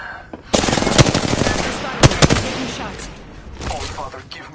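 Gunfire in the battle royale game Apex Legends: a rapid burst of automatic weapon fire with a few louder single shots, dying away toward the end, with game voice lines over it.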